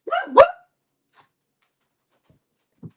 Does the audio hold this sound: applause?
no